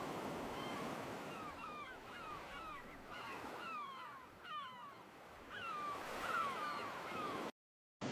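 AI-generated ocean waves wash in a steady broadband surge, with seagull calls chirping faintly over the surf throughout before a brief cut to silence near the end.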